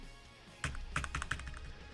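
Typing on a QWERTY computer keyboard: after a quiet start, a quick irregular cluster of crisp clicking keystrokes sounds close by and moderately quiet, then trails off.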